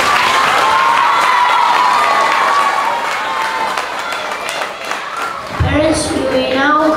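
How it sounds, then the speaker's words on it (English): Crowd of parents and students at a grade 3–5 school awards assembly claps and cheers steadily for several seconds, with voices mixed into the dense applause before a brief thump near the end. "Let's give them a big round of applause."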